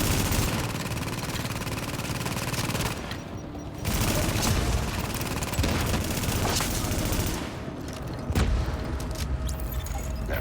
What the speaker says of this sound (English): we can see the explosion from here